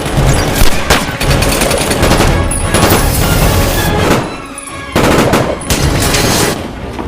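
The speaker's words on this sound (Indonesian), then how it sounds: "Jack dan John hampir berhasil menahan Yuri, Irina muncul dan melepaskan tembakan sehingga Yuri berhasil melarikan diri." Rapid automatic gunfire from an action movie fight scene, dense loud bursts with brief pauses between them, booming and continuous.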